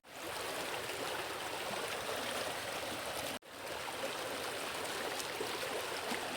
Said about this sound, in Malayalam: ഈ രണ്ട് ചെറിയ പോർഷൻ കൂടി മാത്രമേ വെള്ളം അങ്ങോട്ട് വരുന്നുള്ളൂ